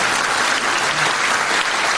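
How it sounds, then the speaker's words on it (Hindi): A congregation applauding in thanks to God during a Hindi church sermon, dense continuous clapping that stays loud and steady throughout. "हाथ ताली बजा के परमेश्वर से धन्यवाद।"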